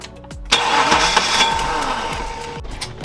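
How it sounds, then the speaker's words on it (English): A BMW E30 323i engine cranks repeatedly after 10 years sitting, with no fuel flowing, a rhythmic churning whir from the starter, loud and close, without catching. "give the car a bit of a crank"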